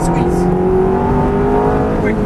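Ferrari F430 engine under full throttle on a race track, a loud close steady high-revving roar with rising harmonics and an instructor's voice talking over it.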